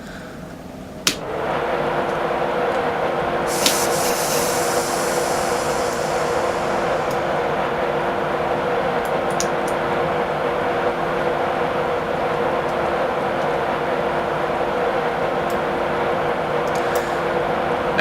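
A train pulls out of Darlington station in Train Simulator 2017, a click and brief hiss giving way to a steady, droning rumble and hum that runs continuously, with occasional faint clicks over it.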